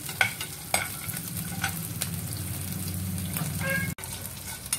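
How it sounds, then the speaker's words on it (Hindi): Peanuts fry in hot oil in a pan with a steady, close sizzle and occasional stirring clatter. No voices are heard. "देखिए मूंगफली भी डाल दी मैंने मूंगफली थोड़ी सी जब भून जाएगी"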